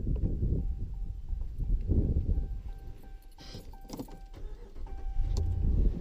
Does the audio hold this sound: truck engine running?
yes